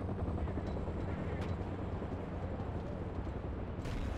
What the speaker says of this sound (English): Hostile chopper, identified.